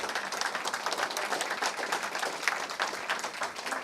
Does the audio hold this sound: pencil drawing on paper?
no